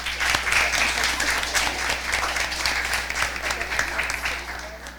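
Applause for a school team at a junior science quiz, a steady crowd of close hand claps over a low electrical hum, continuing evenly for several seconds.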